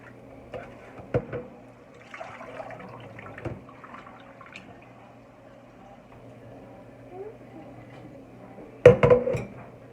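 Raw chicken feet washed in a bowl of water: quiet sloshing with scattered clinks and knocks against the dish, ending in a louder splash and clatter near the end.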